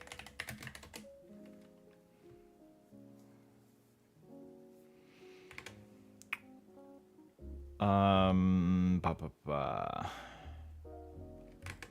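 Hard, fast typing on a computer keyboard during a programming stream, clacking in bursts with a loud flurry near the end, partly under background music.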